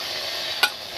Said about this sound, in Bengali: যেন ভাজার মতো আওয়াজ শুরু হয়ে গেছে না